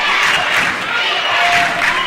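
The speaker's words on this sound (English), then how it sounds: "all the momentum and all the crowd noise coming from the Farmington" Steady roar of Farmington fans in a gym during a girls' district final basketball game against Prairie Grove, a dense continuous crowd din with shouts and cheering throughout.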